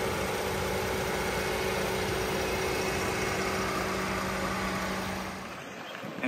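A 2014 Cadillac SRX Luxury AWD with a 3.6 liter V6 and 142k miles idles smoothly, a steady even hum recorded close under the open hood, easing slightly at the end.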